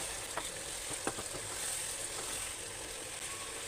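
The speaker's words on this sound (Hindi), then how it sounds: "अब इसे फुल गैस करके थोड़ा हम भूनते हैं ताकि ये टमाटर जो है घुल जाएंगे ग्रेवी में" Tomatoes frying over a full gas flame in a pan for chicken stew give a soft, steady sizzle, with a few light clicks and scrapes from stirring and no talking.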